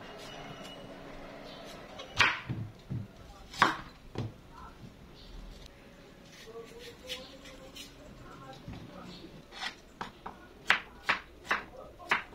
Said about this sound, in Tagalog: Balatan natin ito at hiwain.